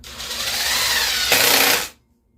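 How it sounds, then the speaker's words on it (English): A handheld power drill drives screws into wood while a DIY porch flower planter is assembled, a single loud, close, steady whir lasting about two seconds that rises slightly before cutting off abruptly. "And now we'll put our screws, tighten them down."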